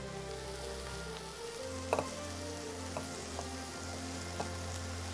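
Steady sizzling of pork ribs frying in a hot pan with vegetables, a constant crackling hiss with a few sharper pops and spatters, no talking.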